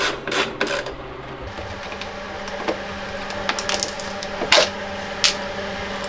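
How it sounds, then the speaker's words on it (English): A 10mm wrench removing rear bumper screws on a 2020 Polaris PRO RMK snowmobile, with scattered metallic clicks and light clinks of the tool against fasteners, close and fairly quiet. "Use a 10mm wrench in the back and take it off."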